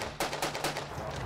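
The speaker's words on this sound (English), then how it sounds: "It's not the same shooting blanks as real live ammunition." Blank rounds fired from a gun in a rapid burst of several sharp, crackling reports, quiet and distant-sounding over a low background hum.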